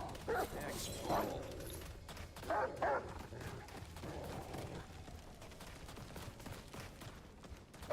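Dogs bark repeatedly in the video game Hellcore, sharp yelping barks in several bursts over dense, noisy game sound, with gunfire-like clatter mixed in.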